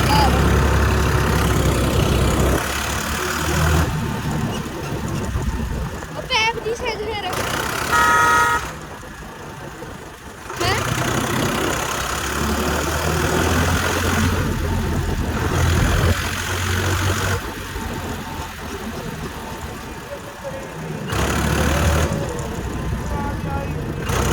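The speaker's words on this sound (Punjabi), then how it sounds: "ਹੁਣ ਟਰੈਕਟਰ ਲੈ ਕੇ ਚੱਲਦੇ" A tractor engine runs steadily throughout, a continuous low rumble with shifting loudness and a few brief horn-like toots, with no talk over it.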